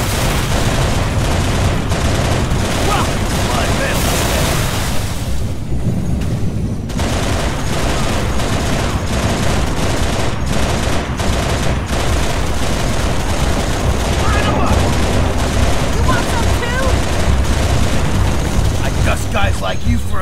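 Hostile gunfire rages in a Halo Reach campaign battle in New Alexandria, played with the Mythic Overhaul mod. Loud, dense automatic fire and rapid shots run without a break for about twenty seconds, with booming blasts mixed in and voices faint underneath.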